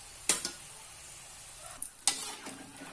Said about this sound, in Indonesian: Ini kita bolak-balik, kita goreng sampai berwarna coklat.